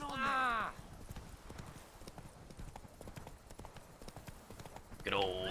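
Hooves of Roach, the horse in The Witcher 3, clip-clopping at a steady walking rhythm, with a loud whinny at the start and another near the end.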